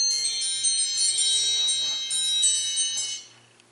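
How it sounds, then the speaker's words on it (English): Alarm going off as a meal reminder, a bright high-pitched electronic chime ringing in repeated bursts for a few seconds before fading out, fairly loud and alone without any talking. "That was my alarm reminding me it's time to eat"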